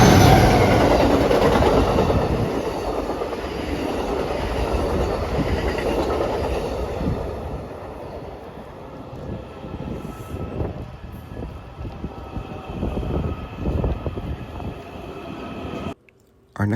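An Amtrak or CSX train rumbles past a DC Metro station beside the CSX Metropolitan Division tracks, a loud, steady roar with clattering wheels that eases off toward the end.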